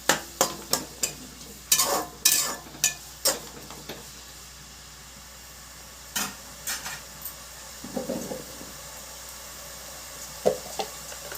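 Onions frying in hot oil while being stirred for boti curry: a run of sharp scraping strokes early on, then quieter sizzling with occasional spoon knocks, close and fairly loud.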